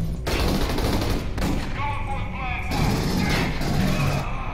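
Rapid bursts of gunfire from the video game Aliens: Colonial Marines, with flaming shots and thuds in quick volleys, while players talk over the action.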